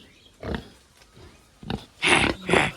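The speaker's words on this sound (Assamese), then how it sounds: "কেনেকুৱা ডাঙৰ গাহৰি" A large pig grunts at a market in Guwahati, several short, rough grunts close by that grow louder toward the end, over light background noise.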